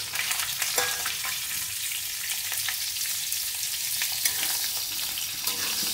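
Cauliflower pieces frying in oil after fish, a dense steady sizzle with crackling pops and occasional stirring clicks, close and even throughout with no speech.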